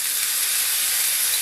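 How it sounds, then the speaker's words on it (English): Capers sizzling hard in a hot pan while making chicken piccata, a dense, steady bright hiss filling the whole moment, close and loud with no voices. "Let's get some capers in there. It's going to sizzle"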